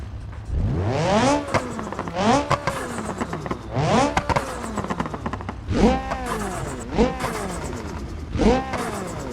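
Car engine in the Automation video game revving repeatedly, five or six sharp rising-and-falling bursts with fluttering tone, loud and close with brief lulls between each rev.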